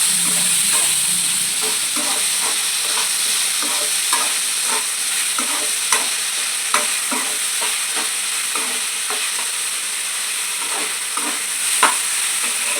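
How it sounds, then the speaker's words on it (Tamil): Rock salt and curry leaves sautéing in a pan for a village fish curry, a steady loud sizzle with frequent scraping stir clicks throughout, no talk. "நல்லா வதக்கிடலாம்"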